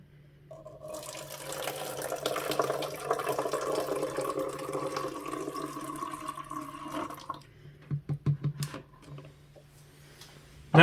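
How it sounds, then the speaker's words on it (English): Liquid pours steadily into an old plastic ketchup bottle for several seconds, followed by a few gurgling glugs and a short clatter at the end. "we're going to pour it into the bottle of choice"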